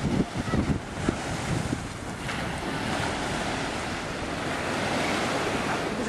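Surf rolls and breaks on a public beach at Snoopy Island in Fujairah, UAE, a continuous wash of waves with wind buffeting the microphone, strongest in the first second.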